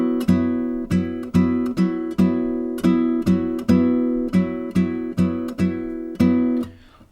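Bossa nova pattern on a nylon-string classical guitar: thumb bass notes on every beat under plucked index-middle-ring finger chord blocks, a steady syncopated rhythm of about a dozen strums played alone, close and clear.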